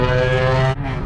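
A Nissan 350Z engine with a major exhaust leak, sounding like open headers, drones loudly and raspily with a steady buzzing tone, then the note drops abruptly as the revs fall.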